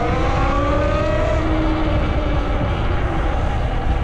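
Talaria Sting R electric dirt bike pulls hard into a wheelie, its rising motor whine steady and loud over heavy wind rumble throughout.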